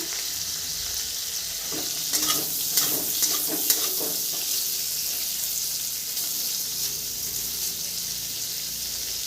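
Paneer cubes frying lightly in melted butter in a pan, a constant bright sizzle with a few clattering stirs and scrapes in the middle, close and steady with no talking.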